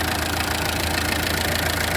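Tata Indica DLS 2003 diesel car engine idling in good condition, a steady, even rumble with a faint knocking texture held at constant level throughout, close and alone.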